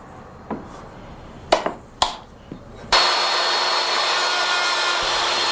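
Several sharp knocks and taps on wood, then a hand-held router starts up and cuts a wooden tenon in an anti-climb pass, a loud, steady high-pitched whine that continues to the end.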